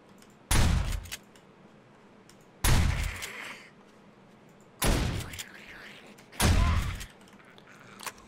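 Four loud bursts of rapid gunfire in the video game 7 Days to Die, each a short sharp volley, spaced a couple of seconds apart with quieter gaps between.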